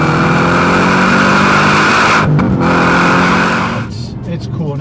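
A Gen 1 Coyote V8 with a Vortech supercharger revs loud and close, holding a strained high-rpm roar before easing off toward the end.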